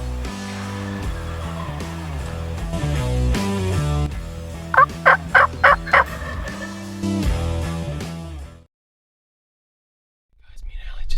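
A wild turkey gobbles close by in a quick run of rattling bursts, set over a sustained, layered background. The sound then cuts to near silence before a soft rustle returns.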